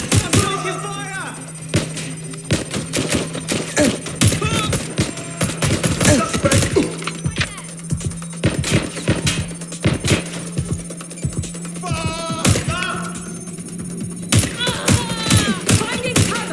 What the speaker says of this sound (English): Shots fired. I'm taking fire.